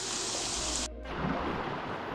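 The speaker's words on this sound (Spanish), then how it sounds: "está lloviendo" Rain falling in the Cocora river canyon, a dense steady hiss heard close, broken by a short near-silent gap before it resumes.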